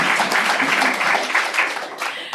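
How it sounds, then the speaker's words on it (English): Audience applause at a school board meeting, a dense burst of hand clapping in a room that swells and then thins out over a couple of seconds. "He needs applause."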